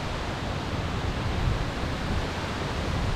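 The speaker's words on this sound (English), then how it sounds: "here I am at Pistyll Rhaeadr Waterfall" Steady broadband roar of Pistyll Rhaeadr waterfall, heard nearby as a constant rushing wash of falling water with no voices over it.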